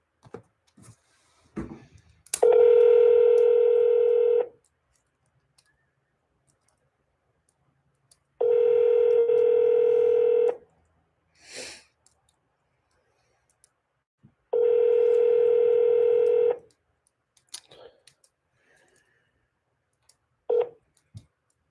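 Telephone call being transferred within an office line: three long, loud electronic ringback tones, each about two seconds, separated by silent gaps, with faint clicks on the line.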